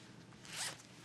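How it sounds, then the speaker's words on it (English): A dress zipper is zipped up in one quick, close, soft rasping pull lasting under a second and swelling briefly near the end, with no talking. "Zip me up."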